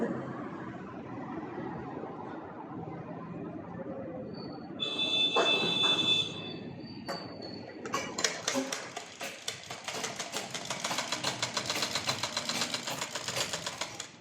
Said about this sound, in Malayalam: ഇങ്ങനെ തയ്ക്കുക.